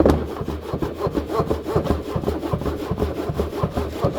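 Worm bin compost from a red wiggler bin being sifted through a screen, a loud continuous scraping and rasping with rhythmic back-and-forth strokes, close up and without speech.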